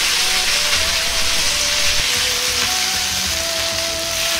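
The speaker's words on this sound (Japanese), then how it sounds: "裏面も肉は均等に焼けるようにヘラで押さえて焼きます" Teriyaki chicken sizzles loudly in a pan while being pressed flat with a spatula, giving a steady close hiss with faint tonal squeaks running through it.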